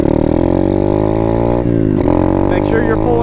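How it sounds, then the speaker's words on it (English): A dirt bike engine pulls away as the clutch is let out and the throttle rolled on, a loud, steady close drone with a slight rise in pitch and a brief dip midway. "let out the clutch, roll into the throttle"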